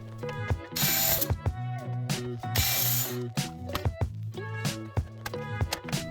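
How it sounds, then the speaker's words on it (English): A screwdriver backs out the four Phillips head screws from the lower tin case of a 2008 Xbox 360, giving ratchet-like mechanical clicks and two brief hissing bursts over a steady tonal background. "we can remove the 4 Phillips head screws and the lower tin case"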